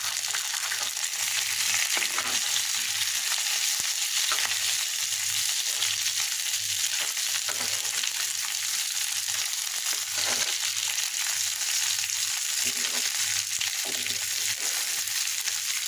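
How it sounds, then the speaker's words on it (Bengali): Fish and onions fry together in a hot pan for home cooking, a steady close sizzle with soft scraping and stirring strokes throughout, no voices. "মাছের সঙ্গে পেঁয়াজগুলোকে মিশিয়ে দিচ্ছি"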